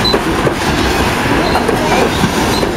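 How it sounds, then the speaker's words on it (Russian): Coal-carrying gondola wagons of a Novotrans freight train pass close by, loud steady rumbling with rhythmic clickety-clack wheel beats and faint squeal over it. "Да, полувагончики идут."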